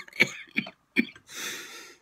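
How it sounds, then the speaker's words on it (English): Several short, sharp coughs in quick succession, close and fairly loud, followed by a longer breathy exhale as a person recovers after laughing. "sometimes when I do laugh, I end up coughing as well"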